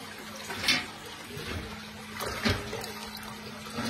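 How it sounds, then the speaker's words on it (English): Aquarium water being siphoned out of a seven-foot fish tank through the gravel stones, giving a soft, continuous watery trickle and gurgle with a few louder sloshes, nearby and without talk. "I'm siphoning the bad water out through the stones"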